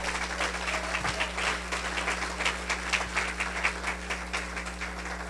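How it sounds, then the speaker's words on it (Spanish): A church congregation gives steady applause, a moderate, continuous patter of many hands over a constant low electrical hum, without any voice over it. "Dele el aplauso."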